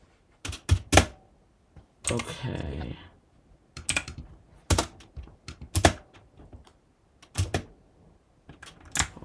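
Typing on a computer keyboard, close sharp key clacks in irregular bursts with gaps, mixed with a brief rustling stretch and a short spoken word.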